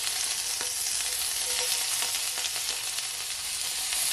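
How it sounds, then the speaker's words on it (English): Onions and garlic frying in a pot over low heat make a steady, close, crackling sizzle that continues evenly throughout, with no talking. "Then I'm gonna add my onions"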